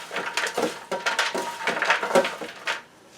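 A spoon mixes salt substitute into roasted fruity vegetables in a bowl, giving a rhythmic series of soft scraping, clinking and crunching strokes, close and moderately loud, with no talking.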